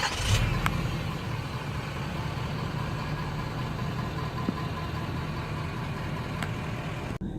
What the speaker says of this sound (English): And I still think they still have this nice diesel purr, what I call it, like a diesel purr that happens.